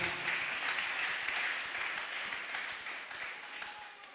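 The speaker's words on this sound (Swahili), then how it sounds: "Est-ce que nous pouvons acclamer?" A church congregation at a year-end Sunday service applauds with a dense, moderately distant patter of clapping that carries on steadily and slowly fades, with no speech over it.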